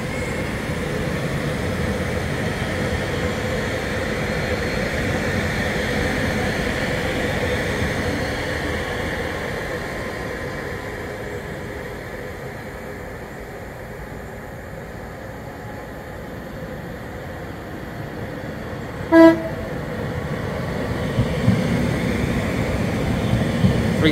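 Northern Rail class 331 electric units running through a crossover between Blackpool North and Manchester Airport give a steady rumbling roar. It fades in the middle and swells again near the end, with one sharp clank of wheels over the points.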